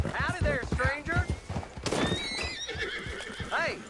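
Horse hooves clip-clop and a horse gives a loud whinny in Red Dead Redemption 2, the neigh rising and falling over the rhythmic hoof beats, with someone speaking at the same time.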